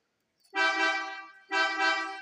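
A Ford Ranger's car horn honks twice, each blast about a second long, loud and close against silence, while testing a faulty steering wheel clock spring.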